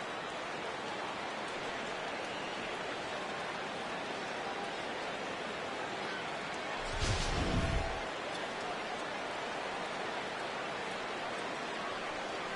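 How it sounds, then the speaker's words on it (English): Steady rain falls through a baseball broadcast in MLB The Show 14 as a constant hiss, with a brief louder burst of noise about midway and no voices in between. "This may have something to do with the rain that's falling out there."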